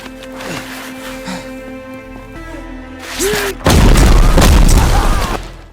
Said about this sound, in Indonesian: Secara membabi buta, Jang Ha memicu ledakan.